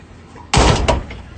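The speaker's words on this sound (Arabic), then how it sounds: "حادور لك واحد يفتح لك الباب." A door in a home opens with a sudden loud clack and rattle, followed by a second knock of the latch, then quiet room tone.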